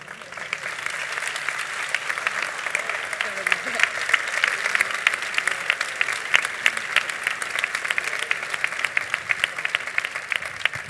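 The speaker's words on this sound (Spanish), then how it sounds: "Ese aplauso." Audience applause at a town festival queen coronation and proclamation ceremony in Cehegín, steady dense clapping from a large crowd sustained for about eleven seconds without a break.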